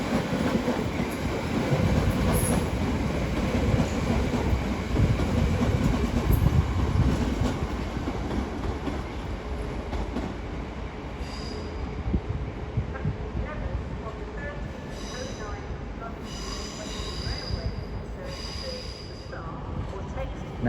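A Class 350 electric multiple unit pulls out of London Euston on the West Coast Main Line, a steady rumble of wheels and traction with rhythmic clicks over the rail joints and faint squeals, staying fairly near throughout.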